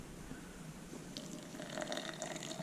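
Hot water poured into an Aeropress Mk 1 coffee maker for a full cup: a soft, steady pour that grows slightly fuller toward the end, with no talking.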